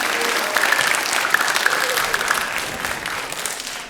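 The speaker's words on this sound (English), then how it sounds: "This would be a great time for applause for Ms." An audience at a high school senior transition panel breaks into steady, dense applause for a student panelist. The clapping is continuous and fairly close for the whole stretch, with faint crowd murmur underneath.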